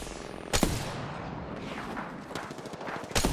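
Wingman pistol fire in an Apex Legends battle, several sharp loud shots in quick succession among scattered distant gunfire and game effects, with bursts clustered at the start, middle and end.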